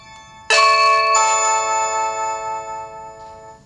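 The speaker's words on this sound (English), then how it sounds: "I pressed the button, and I did hear the chime on here" A Blink Mini camera sounds a chime when the Blink video doorbell button is pressed: one bright bell-like tone starts suddenly and rings on, slowly fading, heard alone over a quiet room.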